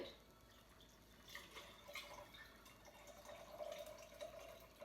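Liquid trickles and splashes into a container in a home garden kitchen while cooking, heard as faint, uneven drips and pouring over a low room hiss, with no voices.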